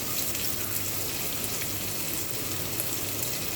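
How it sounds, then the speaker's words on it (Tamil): Onions frying in oil with masala spices for a ground-masala chicken curry, a steady close sizzle throughout with no talking. "மசாலா பொருளோட வெங்காயம் எண்ணெயிலேயே சுருள வதங்குது."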